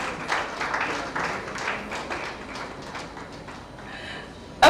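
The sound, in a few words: audience applause at a media conference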